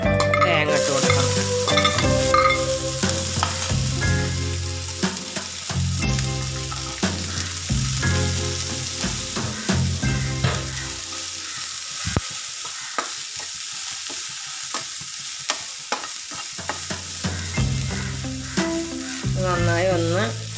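Grated coconut sizzles in a pan while a spoon scrapes and stirs it, with repeated close clinks and scraping strokes over a steady frying hiss, alone without talk.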